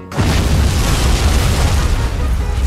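A bomb blows up inside a car with a sudden, very loud, deep boom that rolls on as a dense, rumbling roar for a couple of seconds.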